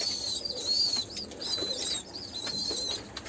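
Yellow posta pigeon cooing close by in a loft, soft repeated throaty coos with faint wing flutters and high chirps from other birds in the background.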